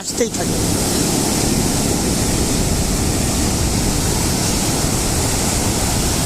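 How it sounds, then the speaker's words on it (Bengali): Loud, continuous roar of ocean waves breaking on the beach at Cox's Bazar, a dense wash of surf with no pauses. "ঢেউগুলো যেন ভেঙে ভেঙে পড়তেছে"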